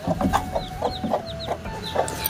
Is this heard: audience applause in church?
no